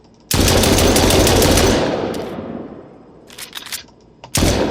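Gunfire in a Zombie Bastards zombie shooter game prototype: a loud sustained burst of rapid automatic fire that tapers off, followed by a few scattered shots and a final loud blast.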